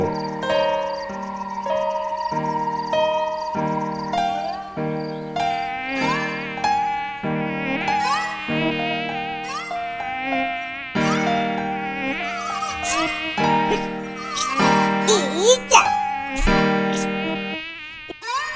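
A loud, whiny insect buzz drones continuously, sliding up and down in pitch like a fly darting around close by.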